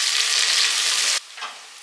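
Onions and curry leaves frying in a pan for a chana masala curry, a loud steady sizzle that drops sharply partway through, then continues more quietly with a brief stir.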